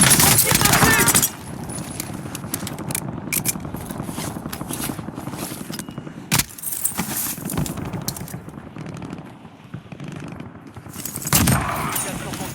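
Video game gunfire crackles in sharp rapid bursts and single loud shots between quieter stretches, with in-game voices talking over the action.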